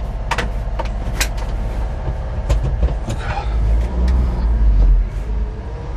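A Honda Acty HA3 2WD mini truck's engine runs loud and steady while held in gear on a test drive, with its drone rising and falling and a few short rattles over the top.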